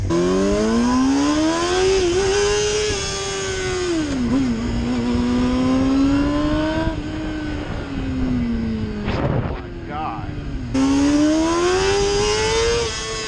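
Modified Suzuki GSX-R motorcycle riding around the block, its engine droning close and steady as revs climb and dip over and over, with a short bright burst of higher revving near the end.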